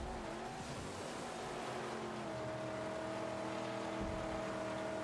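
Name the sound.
racing car engine and tire squeal in a video game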